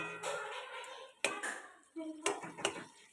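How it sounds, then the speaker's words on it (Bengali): A spoon scrapes and clinks against a pan while mustard-poppy seed paste with green chillies is stirred, several sharp metallic knocks between softer scraping, close and fairly quiet. "ভালো করে নাড়া দিয়ে নিচ্ছি।"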